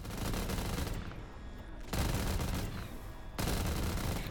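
Rapid bursts of M4 rifle gunfire in The Walking Dead Sanctuary zombies mode, loud and close, coming in three sustained volleys with short lulls between them.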